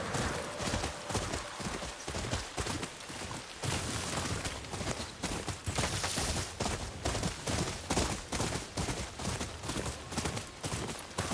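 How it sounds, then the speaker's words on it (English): A horse galloping in the video game Ghost of Yotei: rapid, rhythmic hoofbeats pounding steadily and loudly throughout, with a brief snort or whinny early on. "the horse does go pretty fast"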